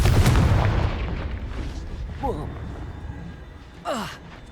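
A Confringo blasting spell explodes in Hogwarts Legacy, a sharp burst followed by a short swooshing tail, with a second brief magical whoosh later, fading as a voice sounds over it.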